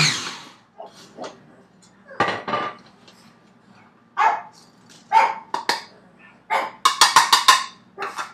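A dog barks in short, sharp bursts, several in quick succession near the end, with quiet gaps and faint kitchen clatter between.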